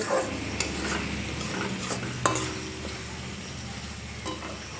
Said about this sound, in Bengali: গ্যাসের ফ্লেম মিডিয়ামে রেখে মশলাটা আমি খুব ভালোভাবে কষিয়ে নেব